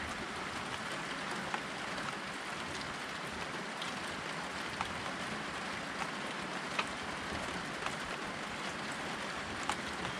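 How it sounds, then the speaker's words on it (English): Heavy rain pours down in a dense, constant hiss, with occasional louder drops pattering on a nearby surface. "it's raining. It started to downpour"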